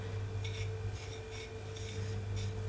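Seasoning gets stirred together in a bowl before going into salted butter for a shrimp and egg foil seafood boil. About five rhythmic scraping strokes sound close by over a steady low hum, with no talking.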